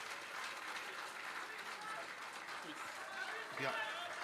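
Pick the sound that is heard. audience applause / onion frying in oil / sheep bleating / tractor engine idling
audience applause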